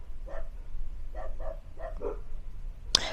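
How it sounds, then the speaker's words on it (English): Several dogs bark in the background in short irregular bursts, distant and moderately loud, with a sharper sound cutting in near the end. "dogs just started barking in the background"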